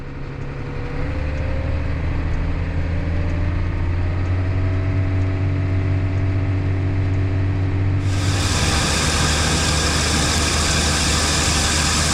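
A tractor engine runs steadily with the PTO engaged at 2100 RPM during alfalfa fertilizing, a constant loud drone that turns harsher and broader partway through as more machinery noise joins.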